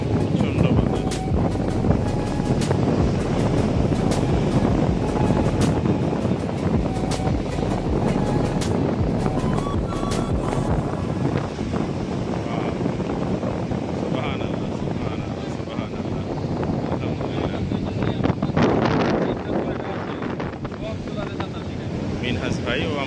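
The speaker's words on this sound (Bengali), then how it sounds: "অনেক ওয়েভ ঢেউ অনেক ভয়ঙ্কর ঢেউ বাতাস প্রচন্ড বাতাস" Strong wind roars across the microphone at Costa da Caparica beach in Portugal, with big waves rumbling beneath in a loud, continuous wash that eases slightly in the second half, and a voice speaks over it.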